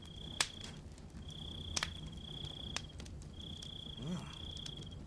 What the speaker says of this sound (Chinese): 蛐蛐打架